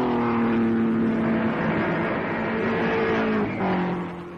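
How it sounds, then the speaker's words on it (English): Race cars of the 1957 Mille Miglia speed past roadside crowds at over 100 mph, a loud, close engine roar with a sustained tone that shifts pitch as a car passes, fading slightly at the end. "these crowds had little thought of danger as the cars sped by at speeds well over 100 miles an hour"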